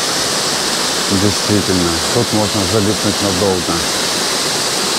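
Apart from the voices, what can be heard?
waterfall in a canyon, Olginsky waterfalls, Abkhazia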